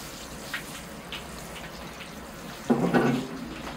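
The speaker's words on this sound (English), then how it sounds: "here I go with the copper watering can. A high flow, here we go" Water pours from a copper watering can at high flow onto a Serissa bonsai being prepared for a show, a loud splashing gush arriving near the end after a quiet lead-in with a couple of faint drips.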